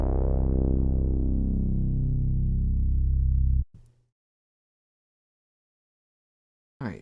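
Synthwave-style bass from Serum with no LFO modulation: one long sustained note that slowly darkens as it decays, then cuts off, leaving near silence before a short burst of speech.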